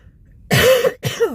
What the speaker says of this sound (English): I'm still coping with this cough